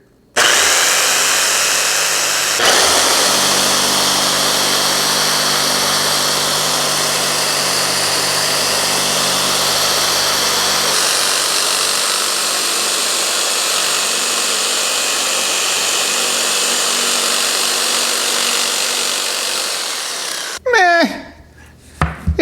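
A jigsaw fitted for sanding is run against a wooden workpiece, giving a steady loud buzzing, rubbing drone for about twenty seconds that cuts out near the end, followed by a few brief clatters.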